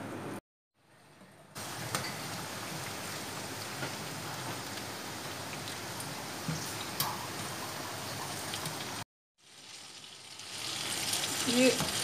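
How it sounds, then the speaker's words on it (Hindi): Sliced banana snacks frying in hot oil in a home kitchen, giving a steady, dense sizzle like rainfall. The sound drops out briefly near the start and again near the end, then returns louder. "ये मैंने ऑयल गरम किया है, इसमें डाल दूंगी"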